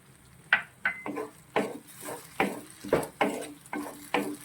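A spoon scrapes and stirs cubed tomato into masala in a pan for chilli gobi, about ten distinct close strokes at an uneven rhythm over a faint background sizzle, with no talk.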